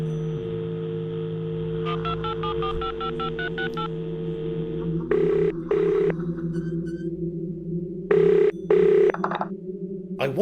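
A telephone in the video game The Lost Crown dials a number with a rapid run of beeping tones, then rings in two pairs of loud, buzzy trills separated by pauses over a steady low drone.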